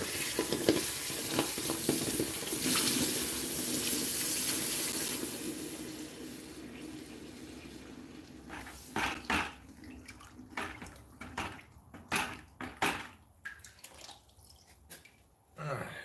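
Water runs and hisses over hot forged metal as it is cooled, a long sizzling wash at first that breaks into bursts of splashing, dripping and clatter, with people talking at times.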